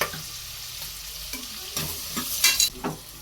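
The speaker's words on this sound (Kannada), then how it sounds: "ಸಾಲ್ಟ್ ಸೇರಿಸ್ಕೊಳ್ಳೋಣ. ಈರುಳ್ಳಿ ಚೆನ್ನಾಗಿ ಬಾಡುತ್ತೆ." Onions with salt frying in a pan for mutton biryani, a soft steady sizzle with a few stirring scrapes and short bright crackles near the end, close and alone without talk.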